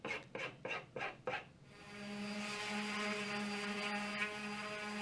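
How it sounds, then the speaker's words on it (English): A hand file rasps along a birch veneer edge band with five or six close, rhythmic strokes, then the scraping gives way to a steady whining hum. "I'm just using a file."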